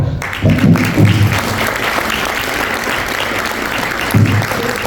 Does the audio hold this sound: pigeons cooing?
no